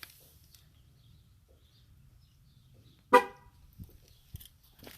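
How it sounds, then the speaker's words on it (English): The horn of a 2018 Chevrolet Silverado LTZ gives a single sharp chirp after a tire relearn in an otherwise quiet setting, followed by a couple of faint clicks. "Then you'll hear the 2 honks to let you know that you're done."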